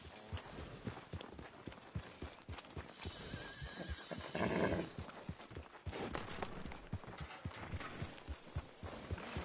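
A horse in an Old West town near a saloon, its hooves clip-clopping in a steady walking rhythm, with a short whinny midway; moderately close, over light street ambience.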